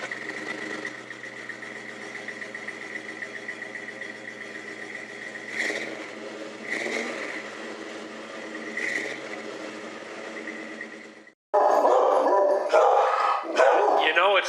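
Several dogs bark in bursts from a distance, sharp woofs scattered over a steady engine drone as a vehicle rolls along, with louder rustling and noise near the end.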